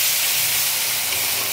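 Ginger, garlic and cumin paste frying in hot oil, a loud, steady, close sizzling hiss with no voices.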